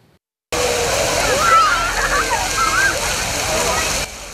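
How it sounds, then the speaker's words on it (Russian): Water jets splash and patter steadily from a walk-through illuminated fountain with colored lights, tested in a city square, as a continuous close rushing spray with a faint voice briefly underneath. "В индустриальном районе провели пробный запуск особого пешеходного фонтана с подсветкой."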